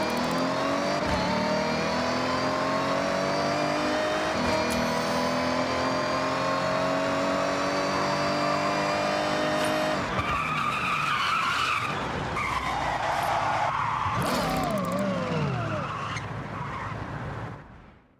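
A race car engine in Forza Horizon 6 holds a high, steady revving whine, then shifts into squealing, skidding tires and throttle bursts before fading out at the end.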